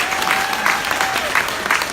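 Steady applause from a crowd at a live unplugged performance in an Apple store in Williamsburg, a dense wash of clapping with a few louder bursts, sustained for the whole stretch.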